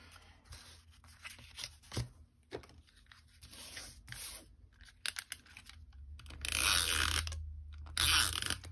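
Paper for a scrapbook layout is trimmed with scattered clicks and slides of a cutter, then two louder, longer rasping cuts close to the mic in a quiet room.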